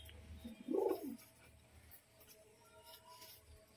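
A pigeon gives a single short, soft coo close by, against a quiet background in a pigeon-keeping setting.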